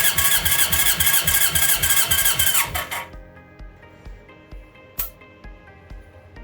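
Honda CB750F motorcycle engine cranking during a compression test, loud rhythmic starter churning for about three seconds that stops abruptly, then light clicks and a sharp tap.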